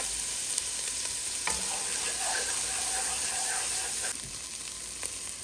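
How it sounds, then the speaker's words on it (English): Onions frying in a soup pot give a steady, close sizzle with faint stirring and light clinks throughout; nobody speaks. "Actually, I'll just go ahead and add all the rest of the onions."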